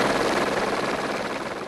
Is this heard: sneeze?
no